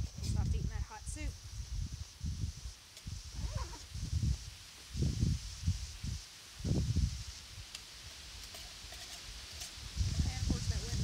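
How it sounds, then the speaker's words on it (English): Wind gusting outdoors at a chilly camp, a steady low rumble and buffeting that rises and falls in bursts over the whole stretch, with a voice breaking through now and then. "See, the wind's coming from behind us now."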